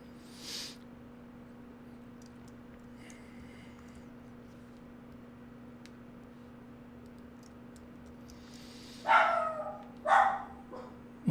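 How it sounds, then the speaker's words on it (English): A dog barks twice in quick succession, a short burst of sharp barks near the end after a quiet stretch with a steady background hum. "Hold on, my dog's barking."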